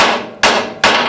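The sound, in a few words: hammer striking in a knife shop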